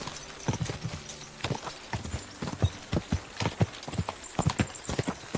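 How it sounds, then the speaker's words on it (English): Horse hooves clip-clopping on the ground in the medieval video game Kingdom Come: Deliverance 2, a close, steady walking rhythm of sharp knocks. "Very nice looking horsey."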